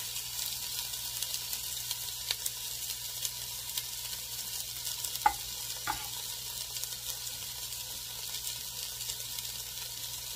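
Vegetables cooking down in a hot pan for homemade yellow rice, a faint, steady sizzle and hiss with a couple of brief utensil knocks partway through, no voices.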